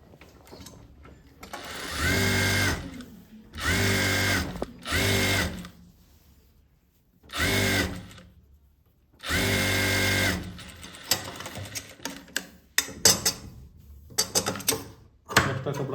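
Sewing machine stitching fabric: loud bursts of rapid mechanical whirring in several separate runs, with quiet pauses between them and softer handling clicks near the end.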